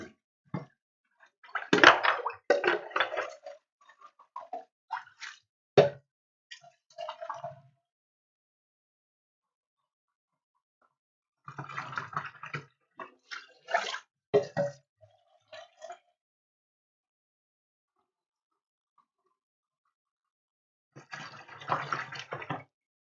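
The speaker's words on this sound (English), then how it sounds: "I have soap, I have water. Let's just clean these brushes off." Paint brushes rinsed with soap and water in bursts of splashing, swishing and dripping, separated by long silent gaps, close and fairly faint.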